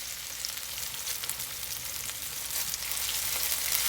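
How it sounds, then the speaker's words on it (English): Oil sizzles and pops in a very hot skillet as onions fry for brown gravy, a continuous crackling hiss with small bursts that grows slightly louder toward the end. "And it's good and hot, so it's gonna do a little popping"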